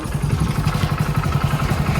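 A motorcycle engine runs close by in a village, a steady low rumble with rhythmic mechanical pulsing and light clatter, heard alone without voices.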